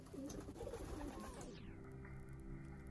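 Soft pigeon cooing at a distance, low and muffled, with a steady hum and background noise running throughout.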